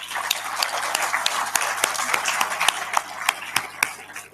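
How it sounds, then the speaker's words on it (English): An audience at a conference on countering violent extremism in Sofia applauds the event's openers, a dense ongoing round of clapping with sharp individual claps standing out near the microphone, steady for several seconds. "let's applaud our three great openers of this event"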